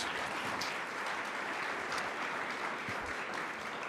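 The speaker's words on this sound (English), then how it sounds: "So round of applause to all of you all." Attendees at a nonprofit sector gathering give a steady, fairly faint round of applause, an even wash of clapping heard from a distance that lasts the whole moment without a break.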